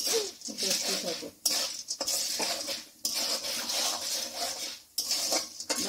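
Popcorn fries in a pan with a close, loud hissing sizzle that comes in stretches broken by short pauses, along with scraping and stirring against the metal and some background talk.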